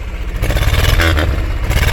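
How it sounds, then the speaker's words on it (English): A 1962 Jeep Willys M39A1's deep, rumbling exhaust revs briefly up close, a loud throaty idle swelling into a short rev. "Well, that's how the exhaust sound."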